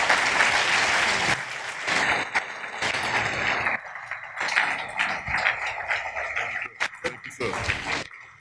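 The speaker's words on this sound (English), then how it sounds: "Let's keep the applause." Audience applause in a hall after a bankers' institute annual lecture, a burst of clapping that thins and breaks into uneven patches, with a voice talking over it through the latter part.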